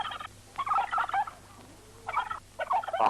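Turkey gobbling in a film soundtrack: two bursts of rapid, warbling gobbles separated by a pause, fairly loud and alone with no talk.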